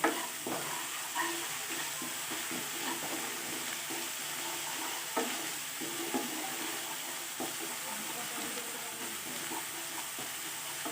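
Salt being stirred into rohu fish curry in a frying pan, a steady low sizzle with soft scraping stirs repeating throughout, close and moderately quiet.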